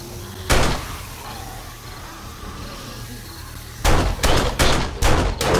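Handgun shots ring out in the 7 Days to Die video game: one sharp report, a quiet pause, then a quick string of four or five loud shots near the end.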